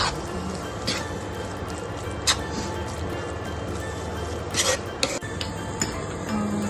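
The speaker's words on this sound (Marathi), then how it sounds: "हे खोबरं आपल्याला भाजून घ्यायचं आहे" Grated coconut dry-roasts in a pan, giving a continuous close rasping, scraping texture as it is stirred and turned, with a few brighter scrapes along the way.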